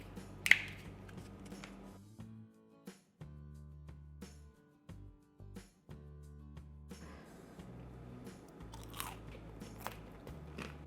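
Crunchy food topped with melted cheese, tomatoes and sour cream is bitten and chewed close to the microphone, giving a series of crisp, sharp crunches separated by short quiet pauses, with no talking.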